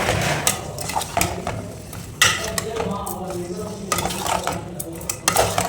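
Bitter gourd and green chillies are stirred in a pan, with repeated metallic scrapes and clinks of the spoon over a faint sizzle, close and moderately loud.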